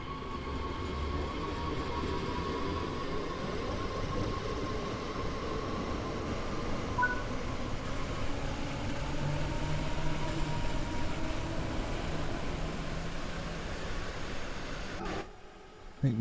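Simulated DB German passenger train in the Rhein-Ruhr region rolls steadily with a continuous low rumble and faint clickety-clack of wheels, ending in a brief thump.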